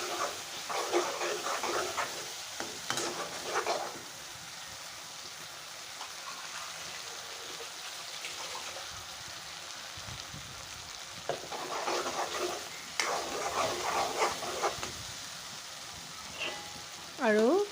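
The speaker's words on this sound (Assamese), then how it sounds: "এতিয়া মই তিলৰ পেষ্টখিনি দি দিলোঁ।" Sesame paste sizzles in a pan of soybean curry, a steady frying hiss with intermittent stirring scrapes; a voice is faintly heard at moments.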